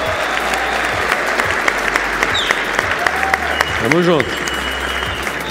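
A packed Sunday audience of more than 1,800 people claps in dense, sustained applause at a live seminar, steady and loud throughout, with someone speaking briefly over it near the end.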